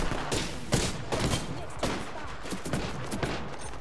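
Rapid gunfire in a first-person shooter game, with dense overlapping bursts of sharp shots that crack repeatedly over a few seconds, close and loud, with a steady battle din beneath.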